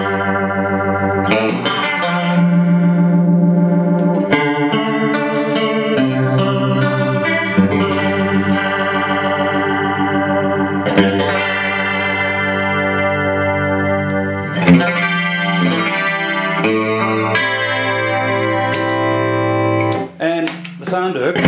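A guitar runs through a BYOC analog chorus pedal turned up for a rotary-like swirl, played as a sustained series of chords and lines with a wobbling, effected, reverberant tone, loud and continuous.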